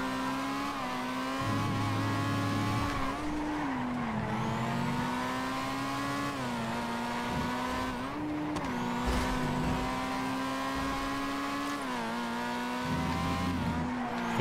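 A time attack race car driven in GTA FiveM, a loud engine holding a high steady whine, rising and dropping with gear shifts and brief tire squeals across the run.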